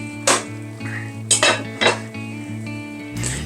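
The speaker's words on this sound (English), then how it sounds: "Okay, I'll put the lid back on." A metal lid goes back onto a cooking pot in a home kitchen with a few clanks and clinks, then a settling rattle over a steady low hum.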